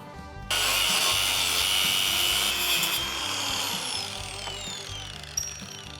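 A power tool trims excess material off a metal bracket for an off-road recovery tool, starting abruptly with a loud, sustained grinding whine. The pitch wavers as the cut progresses, and there is a small knock near the end.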